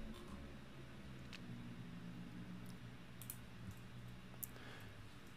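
Quiet computer mouse clicks, a few sparse taps spread across the stretch, over faint steady room hiss while products are added to a Shopify collection, with no talking.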